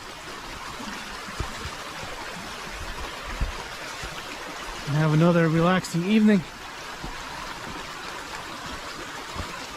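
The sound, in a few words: mountain stream water running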